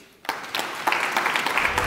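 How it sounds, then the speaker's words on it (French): Audience applause at a 2022 tech awards ceremony starts abruptly after a brief quiet moment and then holds as a steady, dense wash of clapping from a room full of people. "On l'applaudit."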